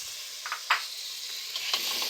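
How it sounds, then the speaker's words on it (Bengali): Beef pieces hit hot spices in a pan with a soft hissing sizzle and a few light clicks of stirring, close but fairly quiet. "এখন এর মধ্যে দিয়ে দিচ্ছি মাংসগুলো।"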